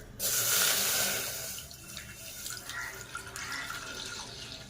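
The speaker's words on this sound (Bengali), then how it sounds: "পায়েস করার জন্য একটা পাত্র নিয়ে নিয়েছি আর এর মধ্যে এবার ঢেলে দেব দুধ" Packet milk pours into a pot for making payesh, a sudden rush of liquid that starts strongly, then settles into a softer, uneven splashing trickle, close and without talk.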